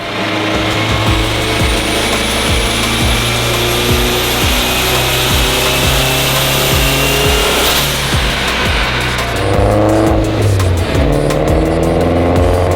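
A loud Honda car engine runs hard and steady on a dyno with a rapid pulsing rhythm, pitch climbing as it revs, then easing off before picking up again.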